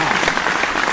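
An audience claps continuously at a Hindi poetry gathering (kavi sammelan), a brief dense burst of applause with no voices on top.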